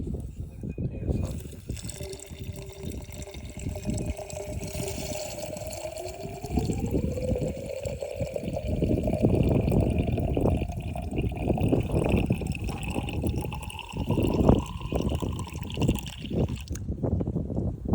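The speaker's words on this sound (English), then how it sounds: "Dirty water coming out." Dirty water draining out of the engine of an abandoned Polaris Trail Boss 350 ATV, a steady trickling and splashing that runs the whole time under low engine-bay noise, with no talking.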